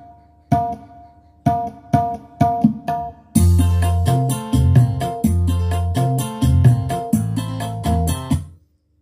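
A few isolated low hits open, then a full groove of punchy drums and thumping bass kicks in, a backing track with no melody or strings, steady and loud until it cuts off near the end.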